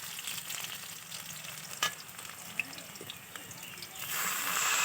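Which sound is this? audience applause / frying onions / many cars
frying onions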